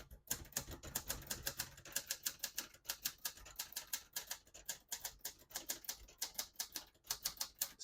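Brisk typing on a 1969 Hermes 3000 vintage portable typewriter, close and crisp, with rapid irregular bursts of key strikes and occasional heavier clacks, no voices.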